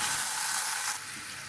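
Ginger-garlic paste lands in a pan of fried onions and oil, a bright, dense sizzle that hisses loudly for about a second, then settles into a softer steady frying.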